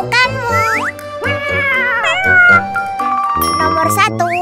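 A pet cat in a children's play setting gives several short, rising and falling meows in quick succession, mixed with lively voices and a few bright chiming effects.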